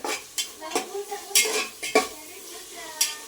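Biryani masala sautés in a pan under a light sizzle, while a metal spoon scrapes and knocks against the pan in quick, irregular strokes, close up.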